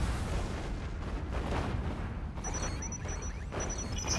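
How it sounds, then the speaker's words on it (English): Artillery firing in the strategy game Planetary Annihilation, a dense, continuous rumble of distant booms with faint high whistles and pops toward the end. "the artillery is just doing all sorts of damage on them"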